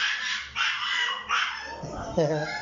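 Two puppies on their first jeepney ride to the Malabon pet market give short barks and high yips, fairly close, over steady vehicle rumble and background talk.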